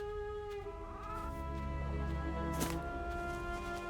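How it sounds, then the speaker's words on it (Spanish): A chicken in the video game Reka clucks faintly over a sustained musical drone, giving short, soft calls that sit low against the steady game soundtrack. "Con la gallina en la mano."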